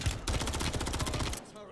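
Sustained rapid turret fire in the Modern Warfare 3 campaign finale, a dense unbroken stream of close, loud shots that cuts off abruptly near the end.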